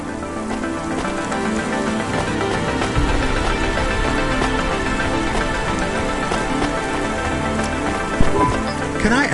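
Steady rain patters and hisses in the Cloudpunk video game, a constant close wash of drops on surfaces over soft background music, with one brief knock near the end.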